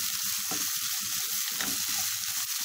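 Chicken being stirred with masala in a pan, a constant bright sizzle over which close, irregular scraping and thudding stirring strokes sound.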